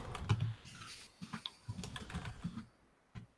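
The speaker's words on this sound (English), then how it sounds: "Like right now, I'm just typing in Firefox" Fingers type on a computer keyboard in short, uneven clusters of light clicks and taps, fairly close and quiet, with brief pauses between bursts and no talking over it.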